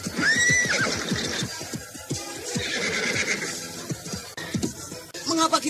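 Horses neigh and whinny several times at close range, shrill rising-and-falling calls over the clip-clop of hooves and rustling movement, with the sounds overlapping as the animals are brought to a halt.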